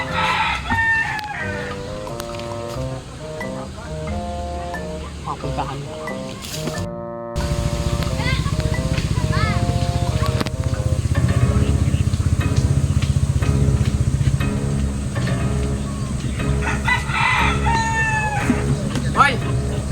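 Roosters crow repeatedly and chickens cluck nearby, with a motor running and a man's brief speech mixed in.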